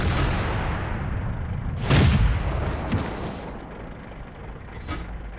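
Tank cannon shots in World of Tanks during a Churchill and Panzer IV battle, two or three deep booming blasts spaced a second or so apart over a constant low engine rumble.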